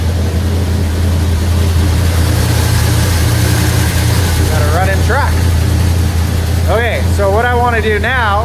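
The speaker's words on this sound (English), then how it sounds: "Got a running truck." Old truck engine idling on choke while fuel delivery trouble is being diagnosed, a loud steady low rumble running throughout, with someone talking over it in the later seconds.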